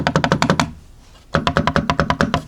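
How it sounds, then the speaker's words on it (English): Paddle shifters on a Thrustmaster T598 direct-drive racing wheel clicking in quick rapid runs of sharp plastic taps, about a dozen per burst, close and distinct, with a short pause between two bursts. "Here's how the paddles sound,"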